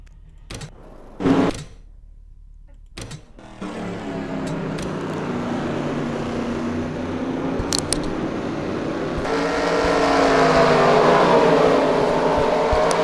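Race cars in a racing video game at Bathurst take the green flag, engine drone swelling into a dense, rising roar after a few sharp knocks and a quiet start.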